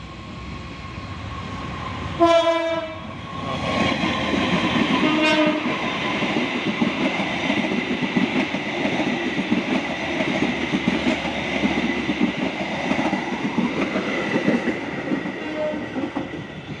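A night freight train carrying palm oil rumbles steadily past at close range, with a short horn blast near the start and clattering wheel noise continuing throughout.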